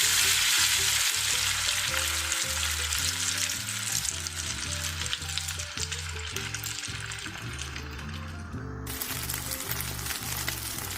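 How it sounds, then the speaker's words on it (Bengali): Rohu fish pieces fry in hot mustard oil in a kadai, giving a loud, steady sizzle that runs throughout, with low tonal music underneath. "তেল গরম হয়ে এলে আগে থেকে মেখে রাখা রুই মাছের পিসগুলো এতে ভাজার জন্য দিয়ে দিচ্ছি।"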